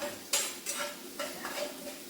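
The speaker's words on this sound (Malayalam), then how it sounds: "പച്ചമുളക് ഒരു ശകലം കൂടെ മൂക്കണം" Green chillies fry in a pan, a soft sizzle broken by several scraping strokes of a spoon stirring them, with no talk.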